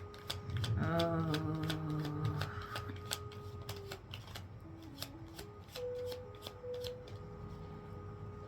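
Tarot cards are shuffled and flipped over in a run of close, papery riffles and snaps, with soft tones lingering in the background.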